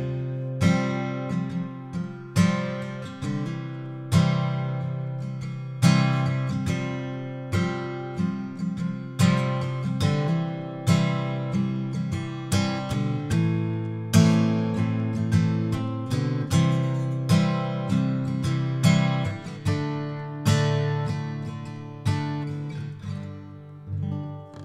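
Acoustic guitar recorded through an Antelope Audio Verge modeling microphone, strummed and picked alone in a steady rhythm, with clear chord attacks repeating every second or so, close and full.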